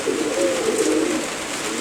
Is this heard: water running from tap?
no